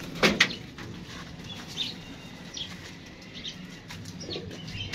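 Desi pigeons on a rooftop loft beat their wings in a loud flurry near the start, then a few softer flaps and faint chirps follow over outdoor background noise.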